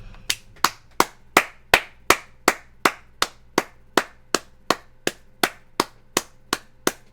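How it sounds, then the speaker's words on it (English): One person claps hands alone, about eighteen sharp, evenly spaced claps at a steady moderate pace, close and clear against a quiet background. "I'm going to clap for half an hour on that one."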